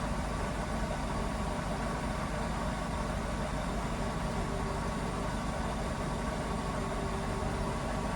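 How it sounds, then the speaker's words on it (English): A Mercedes SLK engine idles steadily in a workshop, a constant low hum that holds at one level throughout with no voices. "I've got this engine running here"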